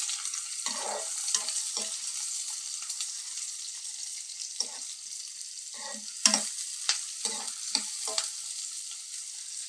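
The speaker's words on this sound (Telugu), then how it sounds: "ఆయిల్ కాగింది, దాంట్లోనూ ఆవాలు, జీలకర్ర, ఉల్లిపాయలు, పచ్చిమిర్చి వేసాను" Mustard seeds, cumin, onions and green chilies fry in hot oil for a bitter gourd curry, a steady bright sizzle broken by several close spoon scrapes and clacks, more frequent toward the end, without speech.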